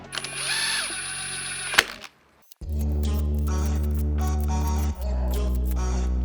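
Impact or power driver spinning bolts into a Toyota 1KZ Hilux diesel engine during a home rebuild, with a short high whine, a brief pause, then a long loud steady drone that cuts out once and resumes.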